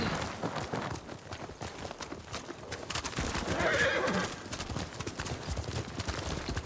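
Horses in a samurai-era open-world video game neigh and whinny while hooves clop and rustle, with mixed outdoor battle-style noise rising mid-way; no dialogue is heard during it.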